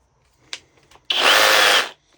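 A Flex 24V cordless reciprocating saw runs in one loud, steady burst of just under a second. It follows a couple of short clicks and stops abruptly.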